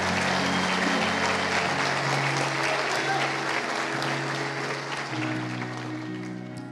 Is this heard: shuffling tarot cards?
no